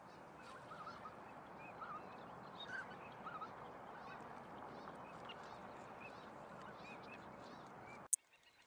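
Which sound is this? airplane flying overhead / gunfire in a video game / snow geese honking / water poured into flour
snow geese honking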